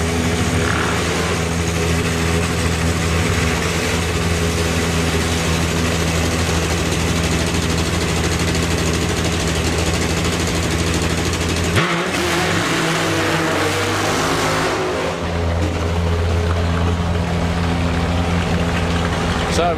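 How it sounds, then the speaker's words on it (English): Supercharged nitro V-twin drag racing motorcycle engine at a drag strip meeting, a loud sustained roar with steady harmonic drone that cuts out abruptly near twelve seconds before a lower rumble returns. "So we've got supercharged nitro V-twin in the Kestrel lane."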